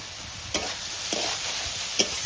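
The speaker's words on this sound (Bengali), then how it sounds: "সব কিছু খুব ভালোভাবে মিশিয়ে নিয়েছি, ভেজে রাখা চিংড়িগুলো দিয়ে দিচ্ছি উপর থেকে।" Water lily stems stir-fry with shrimp in a pan, giving a steady soft sizzle with three sharp scrapes of a spatula spaced about half a second apart, and no talking.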